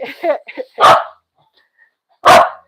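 A young male dog barks twice, two sharp close barks separated by a pause, after a person speaks to him briefly.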